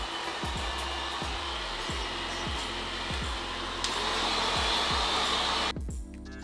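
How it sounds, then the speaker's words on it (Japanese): A hair dryer blows steadily and close while drying hair from back to front, a constant airy roar with faint rhythmic brushing or combing strokes beneath it. "最初は後ろから前に乾かします"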